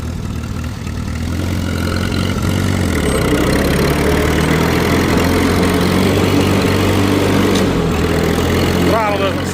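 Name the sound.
small engine running, short on power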